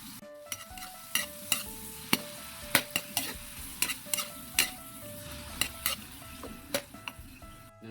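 Meat sizzles in hot oil with garlic and onion in a pan, a steady frying hiss broken by regular scraping knocks of a spatula stirring against the metal, close and clear with no talk.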